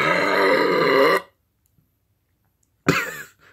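A person lets out a burp after drinking Mountain Dew Maui Burst, a loud, rough belch lasting about a second, followed by silence and then a shorter second burst, close to the microphone.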